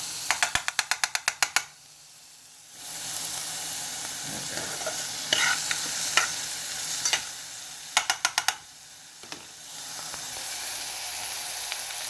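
Food sautéing in a pan while preparing Jamaican rice and peas, a sizzling hiss broken by bursts of rapid scraping from a utensil stirring against the pan, loud and close with pauses between stirs.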